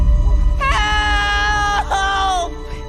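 A frightened boy in a Jurassic World film screams for help, a loud, sustained high-pitched cry that wavers and breaks, rising again briefly before trailing off.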